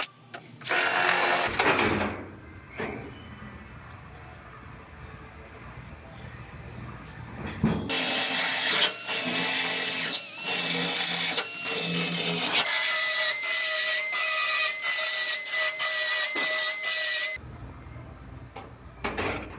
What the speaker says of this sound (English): I'm just going to drill through this first layer of the new floor now.